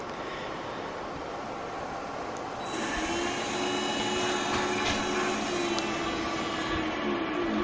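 A 3.5 horsepower DC brushed motor driven by a self-built 200 V controller spins up from a low hum into a steady, loud electric whine with rising tonal harmonics, close to the microphone and with no one talking.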